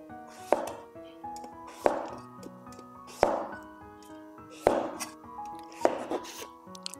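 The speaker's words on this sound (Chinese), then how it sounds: "去皮以后，给它改刀切成小块" A knife chops peeled pumpkin into small pieces on a cutting board, five sharp, evenly spaced thuds about every second and a half, close and clear with no talk.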